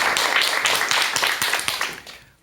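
Audience applause before a Buddhist lecture, dense overlapping clapping from a crowd in a hall, loud and steady, then fading out toward the end.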